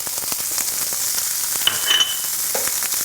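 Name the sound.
meat sizzling in hot pan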